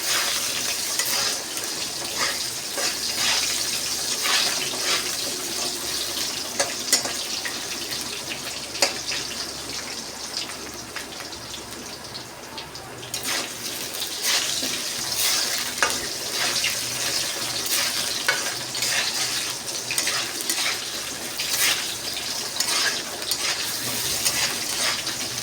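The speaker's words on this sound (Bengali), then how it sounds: "আলুটা একটু ভেজে নেব।" A few cut potatoes fry in a pan in a home kitchen, giving a continuous close sizzle with scattered crackles and light stirring clicks and no talk.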